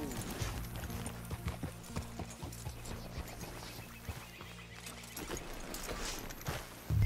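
Horse hooves clop in a steady walking rhythm at a stable in the video game Red Dead Redemption 2, fairly quiet and close, with a brief whinny near the end.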